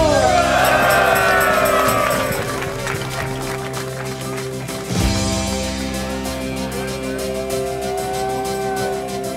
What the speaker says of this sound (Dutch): Een goed applaus voor Rio de Janeiro!